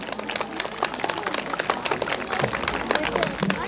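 A small-town cinema audience in Myronivka applauds to welcome Oles Sanin, director of the film Dovbush, with dense sustained clapping and some voices mixed in throughout.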